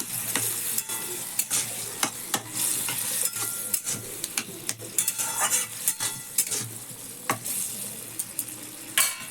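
Pumpkin with poppy seed paste stirred in a hot pan, a steady sizzle carrying frequent scraping clicks and taps from the spoon against the pan, close and alone with no talking.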